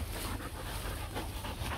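Rottweiler puppies pant steadily close by, with faint whimpers mixed into the continuous breathy noise and no talk.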